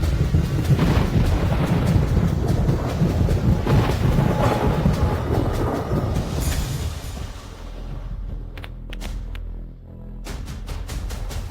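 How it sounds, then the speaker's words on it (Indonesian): Thunder rumbles loud and broad outdoors before rain on a film shoot, a heavy sustained roll that fades after several seconds into quieter air with a few sharp crackles. "Astaga, ada guntur."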